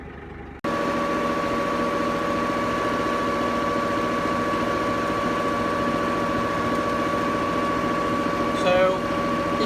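Tractor-driven slurry stirrer churning muck in a farm slurry pit, a steady loud engine drone with constant mechanical hum running unbroken after a brief quieter start.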